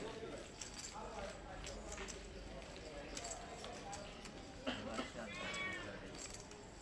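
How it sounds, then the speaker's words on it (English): A cat meows faintly in the background of a poker tournament broadcast during the APT Manila 2024 Main Event, a brief rising cry under steady commentary and room noise. "Can you hear the cat?"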